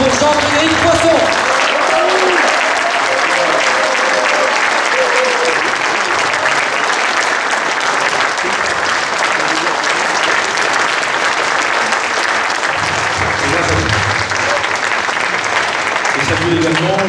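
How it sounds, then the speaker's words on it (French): A rally audience in Lyon gives a political speaker a thunderous ovation, loud continuous clapping from a large crowd sustained throughout, with voices and cheers mixed into the roar. "Un tonnerre d'applaudissements pour Jean-Frédéric Poisson."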